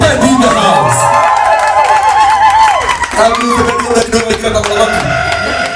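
A live audience cheering and applauding for Zebedi Obedi: loud, sustained crowd noise with many shouting, whooping voices layered together for the whole stretch, with no clear individual words.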